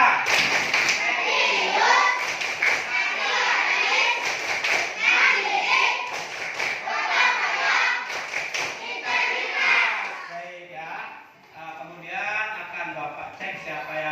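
A class of fifth-grade children performs the Tepuk PPK clapping chant, loud voices chanting together in rhythm over bursts of hand claps and thumps, close and lively throughout.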